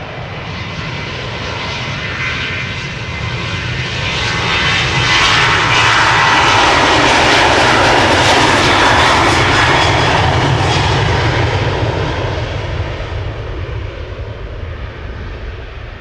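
A Boeing 777-200 jet departs Amsterdam Schiphol Airport with a loud, close engine roar that swells to a peak midway and then slowly eases off, steady and broadband throughout.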